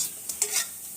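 Flour being stirred into hot water and ghee for kansar, heard as a brief close scrape and soft hiss repeated two or three times within a second, with no talk.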